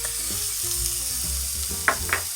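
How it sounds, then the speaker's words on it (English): Minced garlic sautéing in a pan, a bright, close sizzle running throughout, with a couple of sharper spatula scrapes toward the end and no voices. "Now we're going to add in our minced garlic"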